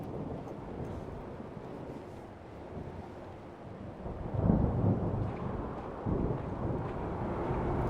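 Thunder rolls in from outside during a storm in the video game Return to Grace, a low rumble that swells around the midpoint and stays heavy with wind-like noise underneath.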